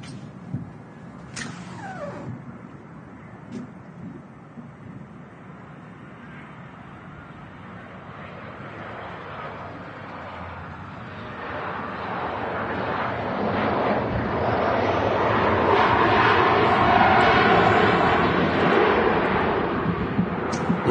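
An Aer Lingus A340 airliner in retro livery lands at Manchester Airport, its jet roar building gradually from a distant rumble to a loud, broad wash that peaks near the end.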